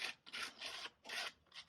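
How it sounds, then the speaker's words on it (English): Pallet wood edges sanded by hand with sandpaper: four quiet rasping strokes back and forth in a steady rhythm, close up, with no talking. "I'm not going too mad with the sanding on this pallet."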